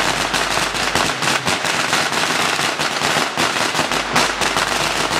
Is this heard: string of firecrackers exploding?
yes